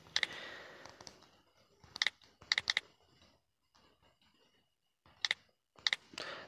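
Typing on a computer keyboard while entering text into a design app, with irregular bursts of crisp, close key clicks broken by short pauses and quiet gaps.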